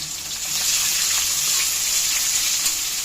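Chopped onion fries in hot oil for a chicken dish, a loud, unbroken sizzling hiss, close and steady throughout, with no voices.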